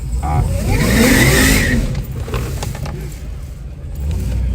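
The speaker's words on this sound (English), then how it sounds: "that's about all the burnout" A car doing a burnout at a street track event, engine revving hard and loud up close, then easing off into a lower rumble with mechanical clatter and crowd noise.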